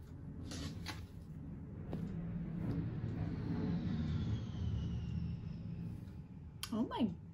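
Loud airplane passing overhead, a broad steady roar that builds and holds for several seconds with a faint descending whine, heard indoors during a craft session of making T-shirt pillows.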